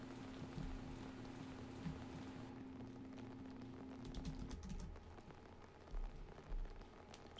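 Soft, steady rain in Batman: The Telltale Series, a quiet pattering hiss with a few scattered drops that thins out toward the end.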